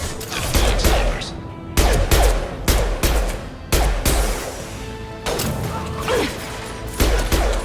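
Repeated loud sniper rifle shots in the sci-fi video game Mass Effect 2, each sharp blast followed by a ringing tail, spaced about a second apart with brief mechanical clatter between.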